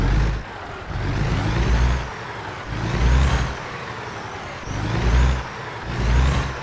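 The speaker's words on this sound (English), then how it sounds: "And more importantly, listen to the revving." Scot A2HD vintage truck engine with a 13-speed Eaton Fuller gearbox in American Truck Simulator, revving repeatedly: four slow, heavy swells of deep diesel rumble rising and falling over a steady idle, loud and close.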